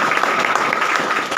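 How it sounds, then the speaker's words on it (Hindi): Audience clapping at a student award ceremony, a loud, continuous burst of many hands applauding up close with a brisk, busy texture and no talk on top. "तो भाई तालियां नहीं बजाते?"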